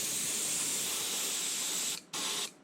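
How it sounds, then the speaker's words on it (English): An airbrush sprays a thin coat of heavily diluted black paint onto a 3D-printed Nautilus submarine model, a steady close hiss that cuts off briefly, then bursts again before stopping. "It's diluted way down in my airbrush here. So here we go."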